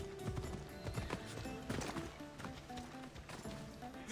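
Horse hooves clip-clop in the video game Assassin's Creed Odyssey, an uneven series of soft hoof strikes at a walking pace. The hoofbeats sit among quiet game ambience with faint background sounds and no clear speech.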